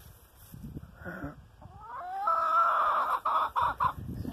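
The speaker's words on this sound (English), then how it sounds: "Man, those are her chicks." Chickens on a homestead, including a hen of a Kelso and Rhode Island Red cross with her chicks, giving soft clucks and then longer drawn-out calls, close by with quiet background noise.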